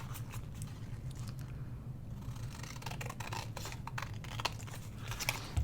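Scissors trimming vintage lace make faint, close snips and soft rustles, scattered irregularly over a quiet room hum.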